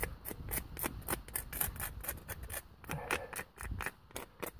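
Barnacles being scraped from a vinegar-softened shell, a quick series of close, dry rasping strokes in an irregular rhythm, fairly quiet and alone.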